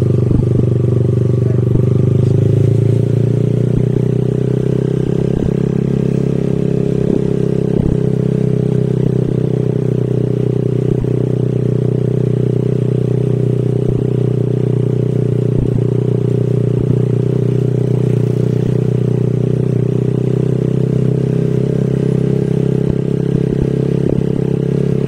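Riding a motorcycle, captured on a Poco X6 5G phone, gives a loud, continuous engine drone and heavy wind rumble with faint rattles, steady throughout with no speech.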